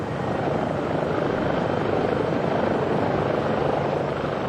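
A Life Flight medical helicopter thunders steadily nearby, its rotor and engine roar loud and unbroken throughout.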